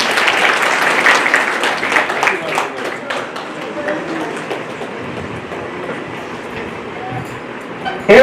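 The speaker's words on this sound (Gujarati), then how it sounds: "તાળીઓથી વધાવો" Audience applause at a Bhagwat Katha religious gathering, a loud wash of clapping that peaks early and slowly thins out, fading toward the end.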